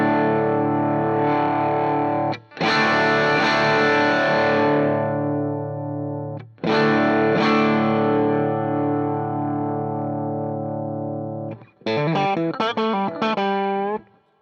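Electric guitar driven through a Warm Audio Warmdrive overdrive pedal: two long, gritty sustained chords ringing out with a short break, then a quick run of choppy, overdriven notes, loud and close.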